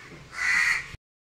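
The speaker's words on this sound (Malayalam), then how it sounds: "കാക്ക" A single crow caws once, a short, clear, fairly close call that ends abruptly, with no talking.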